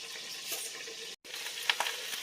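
Southern fried chicken sizzling in an iron skillet, a steady broadband frying hiss with small pops and crackles, brief gap midway, no talking.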